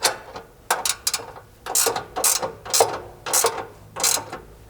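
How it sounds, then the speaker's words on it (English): Ratcheting wrench tightening rear bumper hardware on a Polaris Ranger behind a heat shield, giving bursts of rapid metallic clicking in about six close, loud runs with brief pauses between. "you'll want a ratcheting wrench to be able to get up here behind this heat shield"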